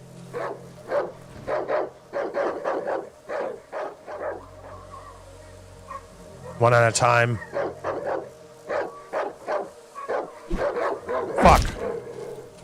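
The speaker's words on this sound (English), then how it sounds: "We may have to fight these dogs." Dogs in the horror video game Darkwood bark again and again in a quick, steady rhythm, close and loud, with a sharper yelping burst midway; someone talks over them.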